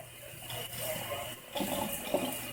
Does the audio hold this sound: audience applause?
no